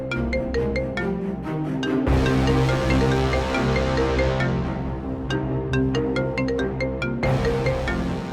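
A mobile phone ringtone rings out as a bright, repeating electronic melody, loud and close, with pulsing notes and brief breaks between phrases and no voices over it.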